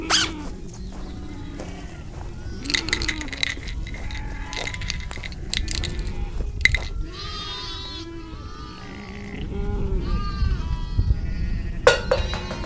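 A goat brought to a doctor for a health problem bleats several times in short, wavering calls over a noisy outdoor background with rustling and handling sounds, and a final sharp noise comes near the end.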